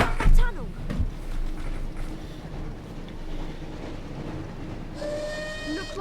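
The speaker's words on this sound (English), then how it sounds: "Looks like we found the train, Ron." Train from the Harry Potter and the Chamber of Secrets PS1 game, a low rumbling rail roll with clattering bursts, then a bright steam whistle sounding near the end.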